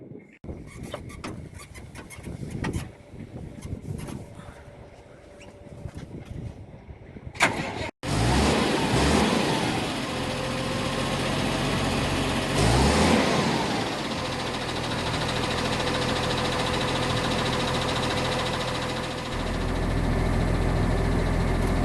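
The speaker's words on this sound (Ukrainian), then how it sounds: "запускаємо двигун трактора" A series of clicks and rattles, then a KhTZ-248K tractor engine abruptly starts and runs loudly, settling into a steady mid-pitched drone with a brief rise in revs.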